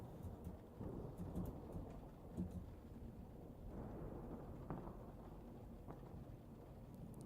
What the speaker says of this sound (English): The sound of the rain on the wind, like on the roof.